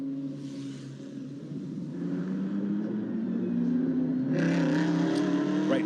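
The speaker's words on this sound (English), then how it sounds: "Great noise from the Aston Martin as it growls its way out of Lisboa" Aston Martin race car engine growling out of the Lisboa corner at the Macau Grand Prix street circuit, a steady loud roar that swells and brightens toward the end, with no talk over it.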